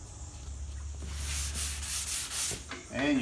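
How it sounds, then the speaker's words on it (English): Hand sanding with the grain on the wood veneer of a 1949 Dumont 15-inch TV cabinet under restoration, a close, continuous rubbing scratch in uneven back-and-forth strokes. "you want to sand with the grain"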